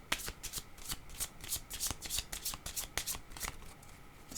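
Tarot cards are shuffled up close in a quiet room, a rapid run of crisp riffling flicks and soft slaps repeating steadily for a few seconds.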